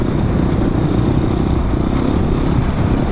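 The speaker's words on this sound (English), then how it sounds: "It is very slow revving, just like an older bike usually is." SWM dual sport motorcycle engine revving, a dense, rough and loud mechanical roar that holds steady throughout the short stretch, with no speech.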